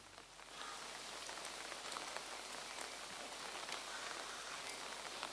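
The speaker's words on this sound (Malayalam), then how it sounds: "കുട ചൂടി നിൽക്കുമ്പോൾ നമുക്ക് അറിയാൻ പറ്റും മഴയുണ്ടെന്ന്" Heavy rain falling in Malabar, Kerala, a dense, even roar of drops on surfaces that swells in after a quiet first half-second and then holds steady and close with no voices.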